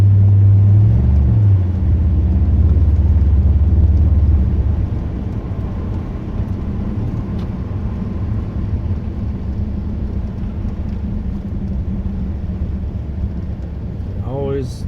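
Low-slung car driving slowly on an icy road after an ice storm, a steady loud rumble of tires and engine filling the cabin with a deeper hum fading early on.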